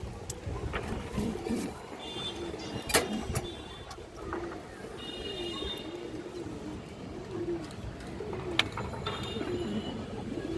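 A lively, high-quality Pakistani pigeon offered for sale coos softly a few times amid steady background noise and occasional clatter.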